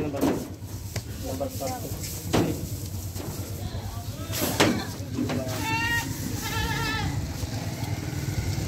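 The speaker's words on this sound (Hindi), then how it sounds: "नंबर 9 में ये बकरा जा रहा है जी" Rajanpuri Gulabi goats bleat at a livestock sale, several distinct wavering cries near the end, with background voices and crowd noise throughout.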